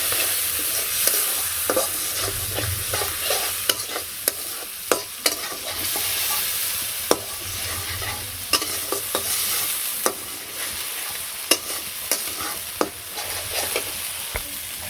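Spices sauté with a splash of water for snakehead fish curry: a constant sizzling bed broken by frequent sharp scrapes and knocks of a spatula against the pan, fairly loud and close.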